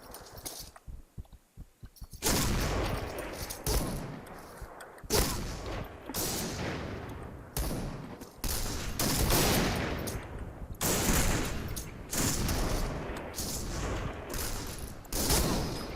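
Sniper fire from a Barrett M82A1 rifle in the shooter game Point Blank: a quiet opening, then a long run of loud, closely spaced gunshots and bursts with brief gaps.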